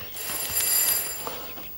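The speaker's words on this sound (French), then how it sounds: "Ah, c'est le téléphone" A telephone bell rings indoors, a bright, steady trill at moderate loudness that fades slightly toward the end, with no speech over it.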